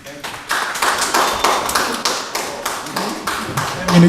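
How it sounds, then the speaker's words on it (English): Scattered hand claps build into steady applause from a crowd at a forum as a speaker walks in, with bursts of rhythmic clapping close by. "please give him a loud hand of applause"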